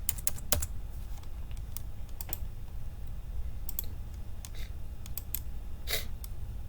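Computer keyboard being typed on to erase text, a close run of light, quick key clicks in irregular bursts against a quiet background.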